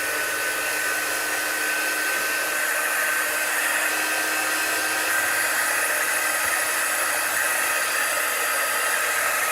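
A hair dryer blows steadily and fairly loud at close range, drying paint on a distressed wooden flag, with an even whine running throughout and no talking.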